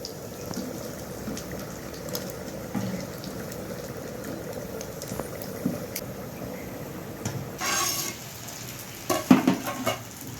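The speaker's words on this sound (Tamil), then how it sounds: "இறா நல்லா ஃப்ரை ஆயிடுச்சு, எடுத்துடலாம்." Prawns fry in a pan while a biryani is being made, giving a soft, steady sizzle with occasional stirring and scraping clatter near the end, close up and with no talk.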